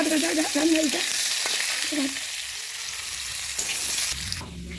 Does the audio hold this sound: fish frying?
yes